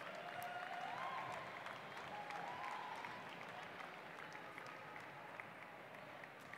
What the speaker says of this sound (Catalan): Els familiars aplaudeixen